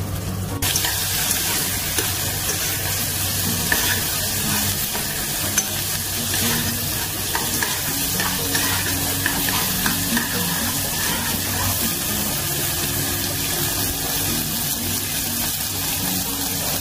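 Chicken skin frying in a pan to render chicken oil for chicken inasal, a steady close sizzle running throughout with occasional stirring, no talk.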